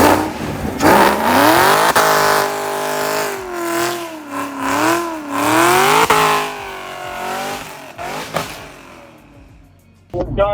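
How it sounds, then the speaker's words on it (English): A 2018 Camaro ZL1 roars through a burnout close up, its engine revving hard in rising and falling surges with tire squeal, ending in a sharp cutoff. "There's a burnout."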